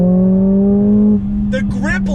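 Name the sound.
Mercedes AMG CLA 45 2-liter turbo inline-4 engine accelerating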